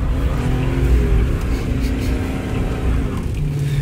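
A 2009 Chrysler 300C 5.7 Hemi V8 with a Flowmaster Super 10 exhaust idles and revs up close, a deep, loud, steady throaty growl with slight swells in pitch.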